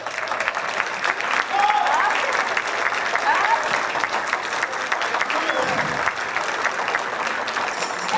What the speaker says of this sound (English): give Marcelo another round of applause.